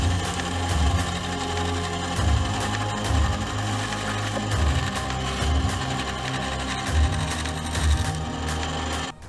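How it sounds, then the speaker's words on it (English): Bandsaw cutting a curved wood profile, a steady mechanical whir with low periodic thumps as the workpiece is fed, close and continuous. "just cut it on the bandsaw"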